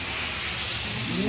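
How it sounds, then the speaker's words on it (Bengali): Fish being sautéed in a pan in a home kitchen gives a continuous, close hiss and sizzle with a faint rise toward the end. "চলো মাছটা কষিয়ে নিই।"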